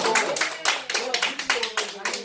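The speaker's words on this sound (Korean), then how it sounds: "시장님 박수 좀 쳐주시고" People at a town debate in Nampyeong applaud for the mayor, a brief run of distinct, fairly close claps in an uneven rhythm over about two seconds, with a voice speaking underneath.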